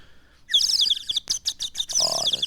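A sound-effect whistle imitates a nightingale, sounding a quick run of warbling, trilling chirps and bright fluttering notes up close.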